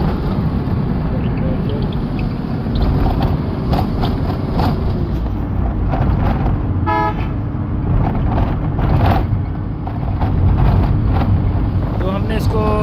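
A Hino truck diesel engine runs steadily at 2000 rpm, a loud, dense rumble with wind buffeting the microphone. Someone talks over it, and there are brief horn-like toots and clanks.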